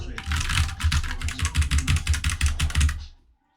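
Rapid, steady typing on a computer keyboard, close and crisp, with dense key clicks running for about three seconds before stopping abruptly.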